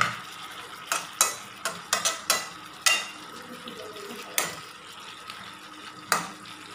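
Chicken curry releasing its juices is stirred in a pan, with a series of sharp spoon scrapes and knocks at irregular intervals over a faint simmering background.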